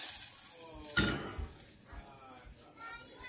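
Butter melting in a pan for chipotle mango chicken wings gives a soft, steady sizzle with a brief clatter near the start.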